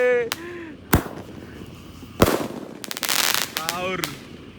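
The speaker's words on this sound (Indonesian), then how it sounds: "Bangunin sahur pakai mercon." Roman candle fireworks (mercon) set off in a village to wake people for the pre-dawn sahur meal, several sharp loud bangs spaced a second or so apart, then a rapid crackling burst, with voices shouting between.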